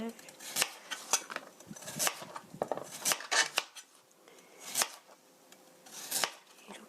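Knife slicing carrots on a cutting board for honey-preserved carrots, a series of crisp separate chops and taps at an uneven rhythm, close and fairly quiet, with no talking.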